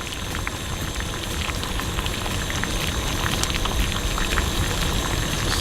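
Lye solution boiling hard during a chemistry experiment, a steady dense bubbling and crackling like heavy rain that stays loud and continuous throughout, with no talking.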